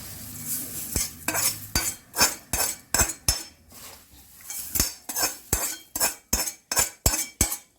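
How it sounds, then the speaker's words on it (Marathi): A spoon stirs tempering spices into puffed rice for a bhadang snack in a metal bowl, with sharp rhythmic clinks and scrapes repeating about every half second, close and loud with brief pauses. "अशा प्रकारे आपण इथे चम्मचने हे सगळे मसाले आपण सर्व लायांना लागतील तसं मिक्स करून घेऊया"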